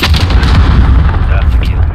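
Heavy explosive blast and rumbling impacts from a cruise missile strike in Call of Duty: Modern Warfare (2019) on the Hovec Sawmill map, loud and continuous low-end booms filling the moment.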